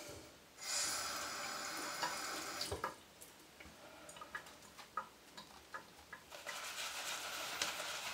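A tap runs briefly near a sink to wet a shaving brush, followed by close dripping, tapping and small handling sounds, then more running water, quiet and with no talking.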